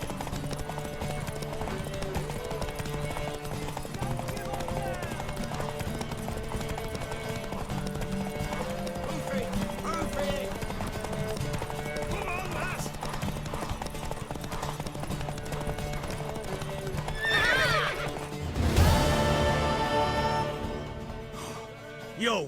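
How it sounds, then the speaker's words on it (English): Horse hooves clip-clop steadily through a Witcher 3 video game scene over music and ambient sound, with a brief louder burst near the end that may be a whinny. "Worthy of the best horse. The mare is yours."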